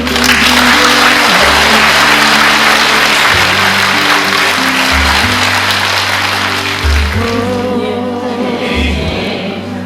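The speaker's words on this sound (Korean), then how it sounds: "뜨거운 박수로" At a welcome ceremony for a nun, an audience breaks into warm applause, a loud continuous clatter of many hands over sustained music that fades slightly toward the end.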